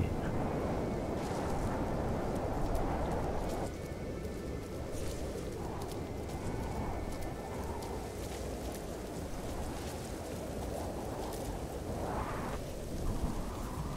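A storm in the No Man's Sky video game brings steady rain and deep rolling thunder, loud and close, holding a constant rumble with a few brighter cracks.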